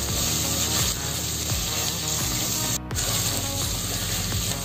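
Spices and shahi biryani masala sizzle steadily in hot oil as tempering for veg pulao, a loud, close frying hiss with a brief break partway through, and no voices.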